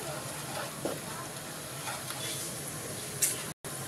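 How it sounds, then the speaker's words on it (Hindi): Gram flour roasting with onions in a pan for a masala bhindi gravy, a soft steady sizzle with faint stirring scrapes and one brief clink near the end. "बेसन डाल के भी अच्छे से मैं भून ली हूँ"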